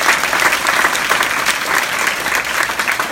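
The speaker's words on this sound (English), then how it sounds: "Very good, give her a hand, guys." A small group at a women's self-defense workshop claps for a participant, steady dense applause for about three seconds.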